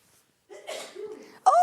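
A single short sneeze bursts out sharply near the end, following a few soft breathy vocal sounds during a live sewing and craft show.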